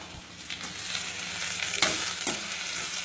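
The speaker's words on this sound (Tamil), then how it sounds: "கொஞ்சம் சாஃப்ட் ஆகிற வரைக்கும் வதக்கணும்." Tomatoes sizzling and being stirred in a pan over medium flame for mushroom curry, a soft steady frying hiss with a few scraping stirs, close and alone.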